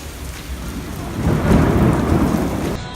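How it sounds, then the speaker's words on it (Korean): Thunder rolls through a storm with steady rain, the rumble swelling loud and close in the middle and the rain hissing throughout. "지금도 천둥 번개가 쳤어요"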